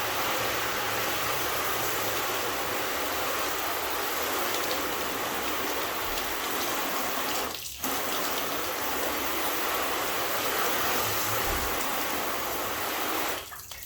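Strong hissing spray of water rinsing a car coated in graphene liquid wax, a loud continuous gush close by, cutting out briefly twice.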